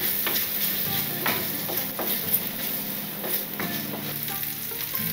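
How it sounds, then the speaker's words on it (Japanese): Food being stir-fried quickly in a pan crackles and sizzles at moderate level, with scattered clicks and scrapes of stirring and no voices. "焦げないようにさっと炒めたら"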